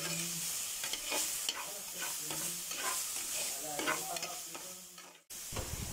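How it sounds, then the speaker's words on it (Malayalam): Onions sautéing in a pan with salt for a Malayalam taro (chembu) roast with black pepper, a soft steady sizzle broken by repeated scraping stirs, close and moderately quiet, with a brief gap near the end. "നമുക്കിതൊന്ന് നന്നായിട്ട് വഴറ്റിയെടുക്കാം."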